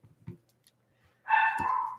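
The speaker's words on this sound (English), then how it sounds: "As my dogs continue to mock me in the background." Dogs barking in the background at home, heard as a faint thump, then one short, moderately loud bark with a brief whining tail near the end.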